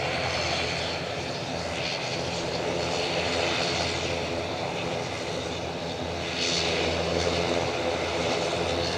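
An easyJet airliner at Edinburgh Airport fills the air with a loud, steady engine roar that swells slightly toward the end, heard alone without talk.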